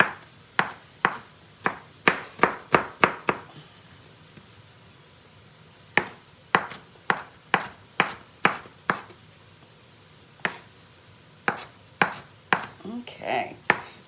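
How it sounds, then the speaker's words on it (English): A knife chops green pepper finely on a board, sharp crisp knocks in quick rhythmic runs separated by short pauses, close and clear with no talk. "I want to chop these up fine"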